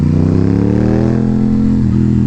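An Aprilia Tuono 660 motorcycle with an UpMap tune and mods rides steadily, its engine a loud, close, continuous drone with a slight pitch drop near the end.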